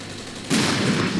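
A sudden burst of tank gunfire in the Armored Brigade war game, cutting in midway over a constant rumbling battlefield background.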